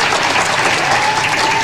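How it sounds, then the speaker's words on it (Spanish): Crowds shut in their homes by quarantine applaud from windows and balconies across Paris streets, a dense, continuous wash of distant clapping that holds steady with no pause. "miles de personas recluidas en sus casas por la cuarentena rompieron con sus aplausos el silencio de las calles de París"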